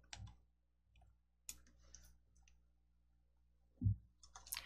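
Several sharp, quiet computer mouse clicks spaced irregularly over a near-silent background, with a slightly louder click near the end, while selecting a school background in a software program.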